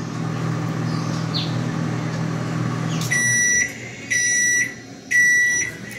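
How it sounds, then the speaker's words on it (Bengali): A microwave oven hums steadily and then stops. Three long electronic beeps follow at a steady pace, loud and close in a quiet kitchen. "মাইক্রোওভেন হয়ে গেছে, সেই জন্য পিঁ আওয়াজ হচ্ছে"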